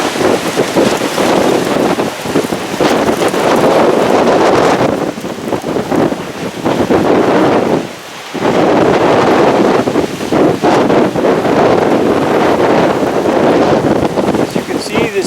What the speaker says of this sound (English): there's another gust of wind there.